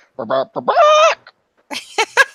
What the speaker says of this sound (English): I was waiting for the robot chicken